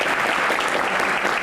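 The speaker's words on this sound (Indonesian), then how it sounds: "tepuk tangan untuk ketok palu." An audience at a Q&A session on the Constitutional Court claps steadily and fairly loudly after a gavel strike, a continuous burst of applause with no talk.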